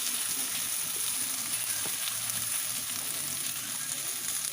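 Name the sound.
diced eggplant frying in hot oil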